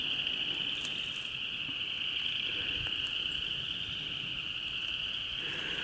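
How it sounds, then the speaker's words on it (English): A dense chorus of frogs trills continuously at a distance, a steady high-pitched drone with no voices. "You hear all the frogs?"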